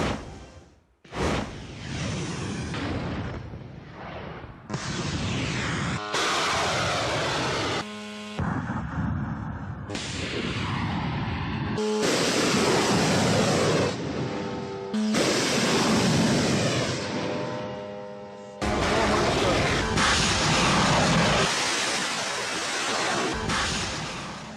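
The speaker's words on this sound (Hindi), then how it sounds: "तो ये फाइटर जेट्स की जो आवाजें हैं वो डराने वाली है।" Fighter jets roar overhead in loud, broad, rushing bursts that swell and cut off repeatedly, with harsh noisy blasts in quick succession and no voices.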